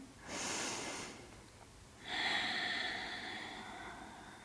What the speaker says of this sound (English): take a lovely deep breath here